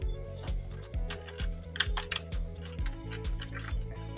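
Steady typing on a computer keyboard while entering answers into an online worksheet, with quick irregular key clicks running throughout and no talk over it.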